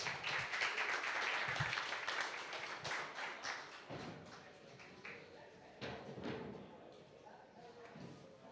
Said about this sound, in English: Big round of applause for Antonio Pagliano and his